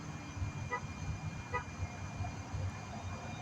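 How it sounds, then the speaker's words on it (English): Two short car-horn beeps sound out of steady city traffic rumble in a busy street, moderately distant and fairly faint. "you heard the horns and the beeping"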